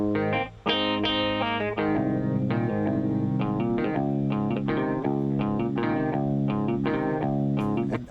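A song section containing grace notes, played back with normal quantization: continuous layered synth and keyboard notes in a steady rhythm, loud and dense, with no voices.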